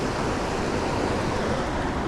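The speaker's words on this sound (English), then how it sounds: "right where the water flows through, like a big current right here in front of me" Water flows through rocks below a dam in a strong current, a steady, loud, broadband rush with no pauses or talk.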